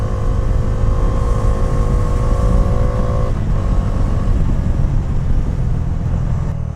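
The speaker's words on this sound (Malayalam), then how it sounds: "373 cc ലിക്വിഡ് കൂൾ എഞ്ചിനാണ്." Bajaj Dominar 400 motorcycle with a 373cc liquid-cooled engine, running loud and close with a buzzy, tonal hum that shifts pitch partway through before settling into a rougher, steady roar.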